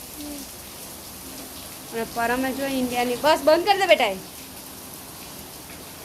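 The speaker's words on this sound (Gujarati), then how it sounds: "જબરજસ્ત પડે છે વરસાદ" Heavy rain pours down steadily in the Saputara hills, a dense, even hiss that runs throughout while a couple of voices talk briefly over it partway through.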